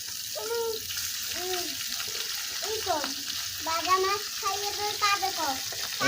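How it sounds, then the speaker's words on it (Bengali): Chabila fish frying crisp in oil, a continuous bubbling sizzle under a voice that talks throughout, close and fairly loud. "এরকম সুন্দর করে করকরা করে কিন্তু তেলে ভাজে নেবেন মাছ"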